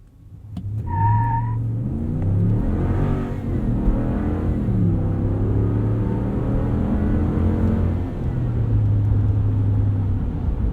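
A 2019 RAM 1500 Rebel pickup truck launches from a stop and accelerates to 60 mph, its engine rumbling and climbing through several gear shifts with steady loud drive noise from inside the cab.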